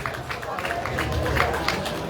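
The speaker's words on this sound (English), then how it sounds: "A round of applause for him" Audience applause at a university's first matriculation ceremony: a short burst of many hands clapping with crowd noise, moderately loud, under a speaking voice.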